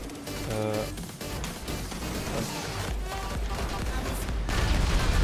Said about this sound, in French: Ensuite on peut tirer des véhicules.